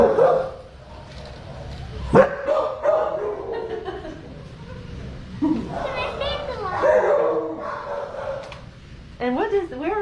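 Dogs at an SPCA animal shelter barking and yipping in short bursts, with children and adults chattering nearby throughout.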